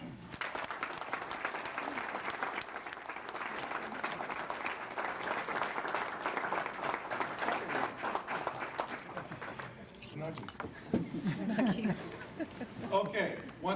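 Audience applause fills a hall of fame induction ceremony, a dense steady clapping that runs for about ten seconds before thinning into scattered claps and murmuring voices near the end.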